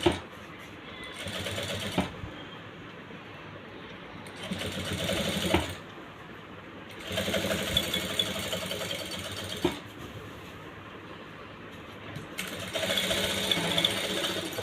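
A tailoring sewing machine stitches fabric in repeated runs of a few seconds each, with quieter gaps between them. The whirring is moderately loud and fairly close.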